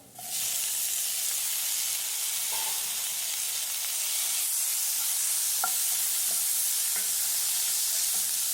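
Tomato goes into hot oil in a pan for a cauliflower masala thoran and sets off a loud, continuous hiss, with occasional soft scrapes and clicks from stirring underneath.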